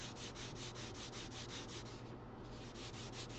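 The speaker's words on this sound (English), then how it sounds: "you'll see right here this little sanding pad, what it's going to do." Steady, continuous abrasive rubbing of a small sanding pad against a metal coin, with a rhythmic back-and-forth pulse, close and fairly loud throughout.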